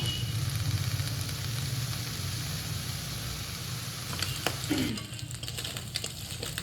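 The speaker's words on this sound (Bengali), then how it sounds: "এই যে চিংড়ি মাছটা আমি এইভাবে ভেজে নিলাম" Shrimp frying in a pan, a steady sizzle and crackle of hot oil running throughout, with a brief stir or clatter near the end.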